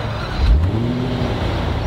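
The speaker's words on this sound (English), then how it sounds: "The V8 roars to life in this low-pitched burble that Jaguar has perfected in recent years." A 2014 Jaguar XKR-S V8 engine fires up with a brief low thump, then settles into a deep, steady rumbling idle, close and loud with no voices over it.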